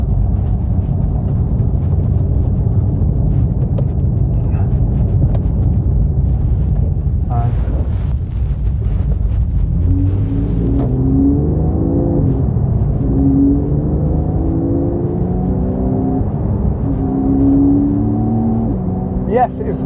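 A Porsche 911 Carrera S (991.1) engine in sports mode, a loud low rumble under heavy wind buffeting, with a brief burst of revving partway through and a rising, shifting engine tone as the car accelerates.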